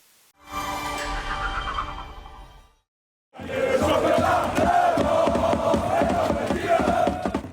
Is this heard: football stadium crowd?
yes